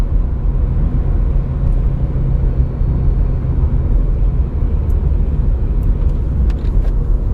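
A car engine, just converted to a manual gearbox and run in a low gear, rumbles steadily and loudly up close as if straining under load, a dense low drone with no clear rise in pitch and no talk.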